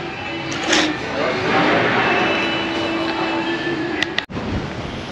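Kirana 7 ferry under way at sea, a steady broadband engine and water rumble holding throughout at moderate level, with faint voices and a brief thump near the end.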